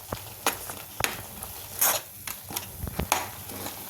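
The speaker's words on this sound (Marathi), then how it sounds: "मी एक चमचा मीठ घालते ते घातल्यानंतर परत एकदा आपल्याला हलवायचे आहे" Spinach paneer gravy is stirred in a pan after salt is added, with soft sizzling beneath repeated sharp scrapes and clinks of a spoon against the pan, close and irregular, with no talking.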